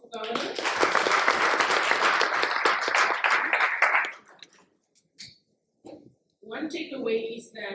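An audience applauds the Governor with steady, dense clapping for about four seconds at an official banknote launch event, then the clapping dies away into scattered sounds and a voice.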